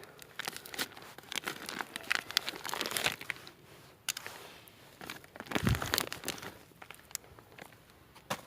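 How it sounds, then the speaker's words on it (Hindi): Knife slitting a plastic poly bag away from a potted guava plant's root ball, close crinkling, tearing and rustling in irregular bursts with a brief louder crunch, no talking. "तो इसलिए हम चाकू की मदद से इस पॉली बैग को काट लेंगे।"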